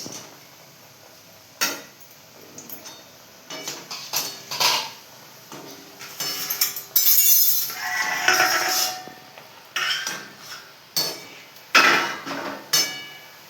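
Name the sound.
stirring in a wok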